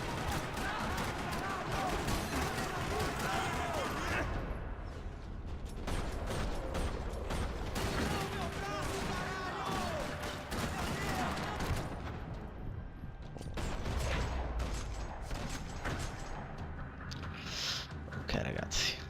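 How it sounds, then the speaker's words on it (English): Gunfire rattling through a parking lot in the video game Max Payne 3, dense bursts of rifle and machine-gun shots with metallic clanks and impacts, loud and continuous with brief lulls. "Another parking lot rattling with gunfire"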